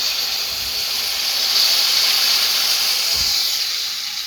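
Hot water hits snakehead fish frying in spices in a pan, raising a loud, steady sizzling hiss that swells slightly and then eases off.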